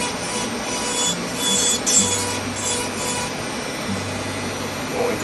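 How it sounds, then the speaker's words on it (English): Sanding on a wooden carving of a black-capped chickadee, a steady abrasive hiss that runs on and off for several seconds, close and moderately loud, with no talk. "So we're going to do some sanding on this,"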